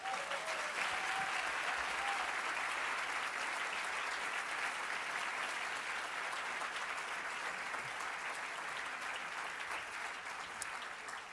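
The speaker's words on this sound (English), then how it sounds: "Applause." Sustained, dense applause from an audience at a speech honoring the Office of Personnel Management director, steady and loud from start to finish with no voices breaking through.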